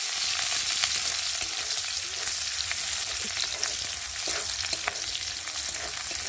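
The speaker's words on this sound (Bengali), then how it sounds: "তারপর দেবো পেঁয়াজ কুচি, তারপর দেবো কটা কাঁচা লঙ্কা দিয়ে ভালো করে ভেজে নেবো পেঁয়াজটা।" Chopped onions and green chilies fry in a pan with five-spice tempering, giving a steady, even sizzle throughout with faint crackles and no voices.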